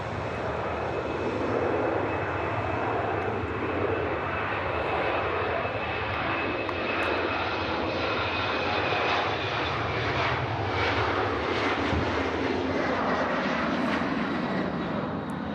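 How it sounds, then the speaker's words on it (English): An aircraft takes off at Manchester Airport, its engines a steady, broad roar that holds loud and constant throughout with no voices over it. "And off goes another aircraft that we saw push back on MATCAM."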